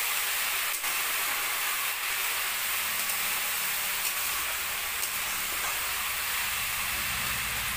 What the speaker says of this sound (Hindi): इसे थोड़ा हल्का फ्राई करेंगे, ज्यादा नहीं करेंगे।